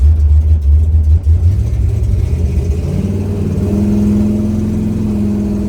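A 1969 Chevrolet Nova with a 454 big-block V8 accelerates steadily in third gear, its deep, loud engine rumble held close and continuous, the pitch rising smoothly as it pulls.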